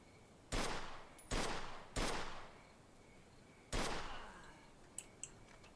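Gunfire in the Mafia II game: four sharp, loud shots spaced irregularly, each with a short ringing decay, followed by two fainter clicks, with no talking.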